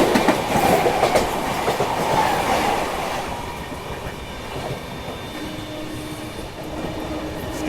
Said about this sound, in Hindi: क्या ज़बरदस्त ट्रैक साउंड आ रहा है।